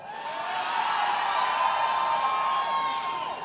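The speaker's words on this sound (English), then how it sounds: "It's always a rowdy crowd." A rowdy crowd at a Miami campaign rally for President Obama keeps up a steady roar of cheering and whooping for several seconds, loud and sustained, with no speech over it.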